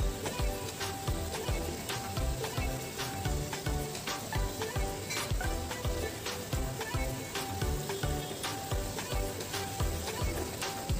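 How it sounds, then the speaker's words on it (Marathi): Chicken pieces stirred into a pot of boiling gravy for a home-style chicken curry give a steady, close sizzle and bubbling, with repeated stirring scrapes throughout and no talk. "आता आपण यामध्ये चिकनचे पीसेस टाकूया."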